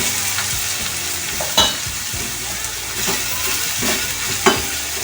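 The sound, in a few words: vegetables being added and fried in hot oil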